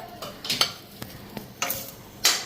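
Fritters crackle softly in frying oil while a spoon or ladle scrapes and knocks against the pan in short bursts. The cooking sounds are close and uneven, and no one speaks.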